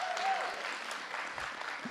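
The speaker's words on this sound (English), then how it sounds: "Give a round of applause for Vanna up in there." An audience at an evening racial equity summit in Richmond claps in a short, fairly faint burst of steady applause that carries on for two seconds.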